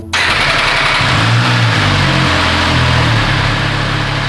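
An MV Agusta Turismo Veloce motorcycle engine idles loudly and steadily up close, its rough, uneven chugging holding throughout with no voices.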